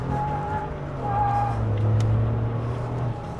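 A Ford F-150 truck with a 3.5L EcoBoost engine drives along a street, its steady engine drone swelling louder midway as it accelerates, with a constant low rumble and no talk.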